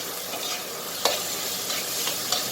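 Sun-dried squid stir-fries in roasted chili paste in a hot pan with a loud, continuous hissing sizzle, punctuated by a few crisp spatula strokes, close up and with no talking.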